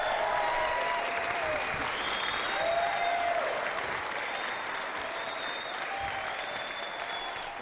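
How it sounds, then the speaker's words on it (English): Audience applauding guests at a Friday the 13th cast press event, steady dense clapping throughout with some faint crowd murmur and a few high whistles, fairly distant and even in level. "a big round of applause to our guests"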